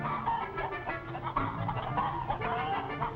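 Pullets clucking inside a hen house, a flock of young chickens giving overlapping, continuous clucks and murmurs at moderate distance, with no talking.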